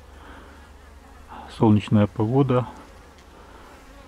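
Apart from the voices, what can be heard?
honeybees flying out of hives on February cleansing flight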